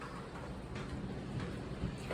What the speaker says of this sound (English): The rain's getting a little loud.